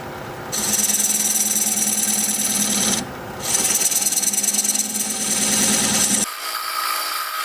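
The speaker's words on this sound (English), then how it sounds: "Now I'm going to use this recess tool to put a dovetail on the side here." A recess tool on a wood lathe cuts a dovetail into spinning California olive wood, giving a loud, steady, close-up rasping scrape that pauses briefly midway and then stops, leaving the lathe's hum.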